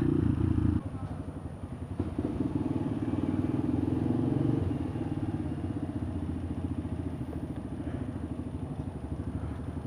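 A Benelli Python 200 motorcycle, assembled in Indonesia, on a test ride: a steady mid-pitched engine hum with a low rhythmic throb, louder at first and then settling to an even drone, with no talking heard.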